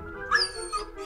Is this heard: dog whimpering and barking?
yes